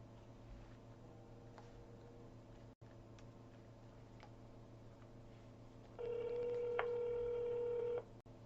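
A telephone call goes through with faint line noise, then a single long ringback tone sounds for about two seconds near the end.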